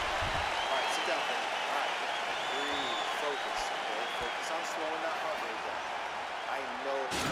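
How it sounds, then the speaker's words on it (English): Fight crowd at a mixed martial arts bout applauding and cheering after a round ends, a dense, steady roar of clapping and voices filling the arena throughout, with some shouts and talk mixed in. "So the crowd voicing its appreciation after that round."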